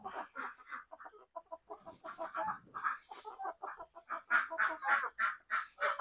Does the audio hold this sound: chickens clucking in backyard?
yes